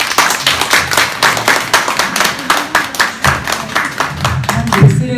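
An indoor audience applauds at an art fair opening ceremony in a Gimhae gallery, dense steady clapping close by for several seconds, with some voices beneath it.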